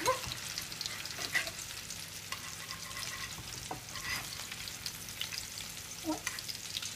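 Chicken patties fry in a medium pan, giving a steady, dense sizzle and crackle with occasional louder pops and no one talking.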